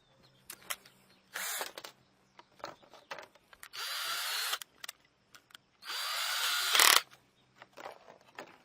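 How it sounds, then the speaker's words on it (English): A power drill drives screws into a plexiglass sheet on a homemade solar panel: two long, loud whirring bursts, each ending in a sharp rising whine, with shorter whirs, clicks and handling knocks between them and no talking. "So just make sure to keep it down so it doesn't ride up on the drill."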